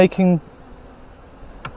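Honey bees near a hive, where the queen may be missing: a loud buzzing burst opens, then fades to a faint hum, and a brief sharp buzz passes close near the end.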